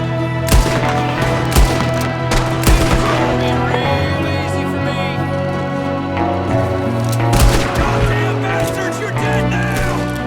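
Gunfire in Red Dead Redemption 2 as an O'Driscoll enemy shoots from a window: several sharp, loud shots scattered across the scene over a steady musical score, with voices talking throughout.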